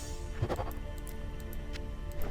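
Bleating, moo-like animal calls from the hordes of cow monsters in Diablo II on Hell difficulty, several short cries overlapping steady game noise and clatter, at moderate level with no talking.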